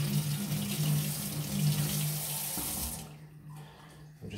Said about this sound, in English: Now I'm gonna rinse it, regular tap water